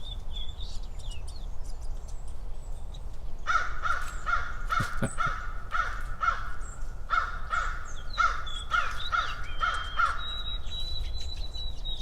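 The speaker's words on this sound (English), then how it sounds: "Looks like we're about to get a crow." A crow caws repeatedly in two rhythmic bursts of harsh calls, fairly close, with small birds, including white-throated sparrows, chirping faintly around it.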